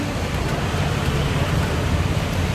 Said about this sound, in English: and then you get under the rain.